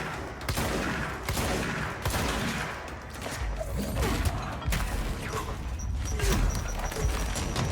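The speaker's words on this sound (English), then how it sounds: "That's a lot of grenades you threw at me." Grenades explode in rapid succession during combat in the video game Control, dense crashing blasts and bursts of gunfire layered over one another, loud and continuous.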